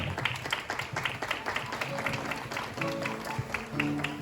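Applause from the audience at a property launch event for villas, a steady wash of many hands clapping at moderate distance, continuous with faint tonal music underneath.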